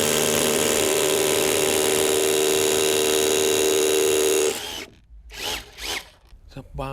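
A Pumpkin cordless rotary hammer drill running on a Makita battery, drilling with a long size 10 bit at 4,900 impacts per minute, loud and close with a steady buzzing whine for over four seconds before it stops, then brief talking.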